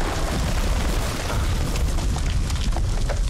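A grenade explosion in the dark horror game House of Ashes, heard as a loud, continuous rumbling boom with deep low-end roar filling the whole short moment.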